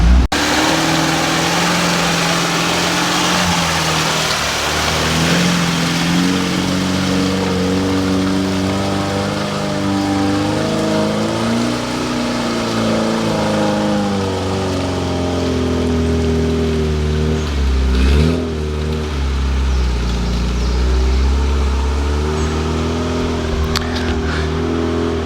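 A repaired vehicle grinds up a steep, rough mountain road, its engine a loud, steady drone whose pitch rises and falls over constant rushing noise, with a brief thump near the end and no voices.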